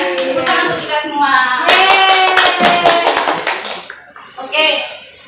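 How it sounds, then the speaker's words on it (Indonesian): A class of children claps their hands together in a quick burst of sharp claps, mixed with talk from the children and a teacher in the classroom. "Tepuk tangan untuk kita semua."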